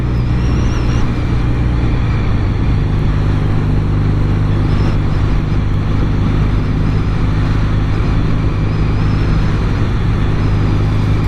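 A 1971 Yamaha XS 650 motorcycle held at a steady 3,500 RPM while riding, its engine droning loud and continuous with a low throbbing hum and rushing wind.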